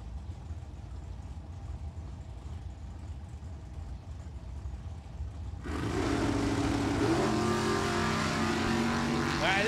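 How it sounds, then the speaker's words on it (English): Drag racing at ATCO Dragway in the Super Street class, a 1979 Pontiac Le Mans against a 1968 Chevy Camaro: after a steady crowd-and-idle rumble, engines erupt into a loud, sustained high-revving roar that fills the second half. "He's driving the 1979 Pontiac Le Mans in the USA Auto Supply lane."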